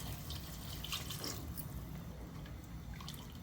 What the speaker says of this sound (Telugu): చికెన్ని గంట పాటు నానబెట్టుకున్న రైస్ వేసి 1 నిమిషం వేయించి 5 గ్లాసుల వేడి నీళ్లు పోయాలండి